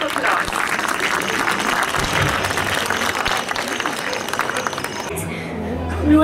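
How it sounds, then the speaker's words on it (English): An audience at a children's music event breaks into loud, continuous applause. Dense clapping and crowd noise fill the clip and begin to fade at the very end. "Let's give him a big round of applause."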